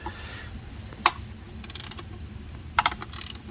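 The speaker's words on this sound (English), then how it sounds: "I'm gonna just use my little speed ratchet" A small speed ratchet spins a 4mm socket to back out a stud on a Jeep Wrangler JL intake manifold, giving two short bursts of quick metallic clicking, close and distinct over a quiet background.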